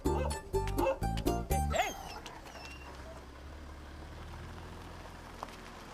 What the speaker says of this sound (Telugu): కుక్కలేవో మరుగుతూనే లే